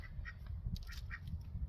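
Pet ducks quack several times in short, faint bursts over a low background hum, nearby and unaccompanied by talk.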